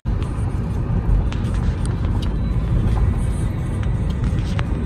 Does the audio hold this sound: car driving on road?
yes